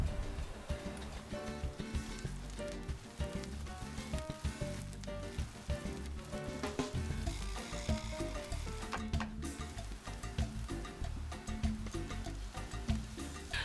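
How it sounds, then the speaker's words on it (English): Steady sizzling of onions sautéing in olive oil in a large frying pan, a continuous crackle with small pops throughout, close and fairly loud, no voices. "in which I'm going to be sauteing the onions in a large frying pan"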